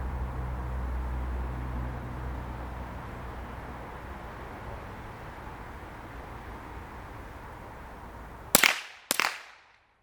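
Two sharp gunshots ring out close together near the end during shooting practice, after a long stretch of steady wind-like outdoor noise.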